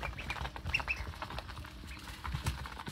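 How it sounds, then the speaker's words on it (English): Pekin ducklings eat treats nearby, giving soft peeps and chirps over a busy layer of pecking, shuffling and scratching sounds, with no talk. "These are Pekin ducks, by the way,"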